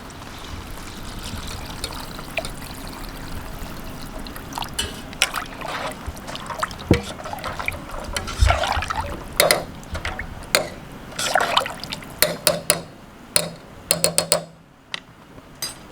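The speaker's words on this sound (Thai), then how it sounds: "ใส่น้ำนะครับน้ำสต๊อกครับ" Stock poured into a pot for Thai braised eggs and pork belly (khai palo), heard as a soft running trickle and liquid splashing with scattered clinks and knocks of utensils, ending in near silence.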